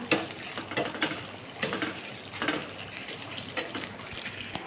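Roasted spices with chili stirred in a pan, giving a steady run of soft scraping and rattling strokes with light clinks, close and moderately quiet, no talking.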